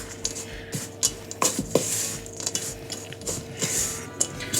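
Rock cake dough being mixed in a bowl, with scraping, clinking and soft squishing strokes in an irregular rhythm, close by and fairly quiet.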